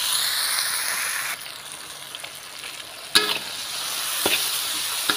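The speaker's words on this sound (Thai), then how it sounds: "ใส่น้ำมันหอยใส่ซีอิ๊วขาวลงไปพร้อมผัดให้หอมนะคะ" Meatballs being stir-fried with oyster sauce and light soy sauce, a steady frying hiss with a few sharp scrapes and clanks of the spatula against the pan, no voices.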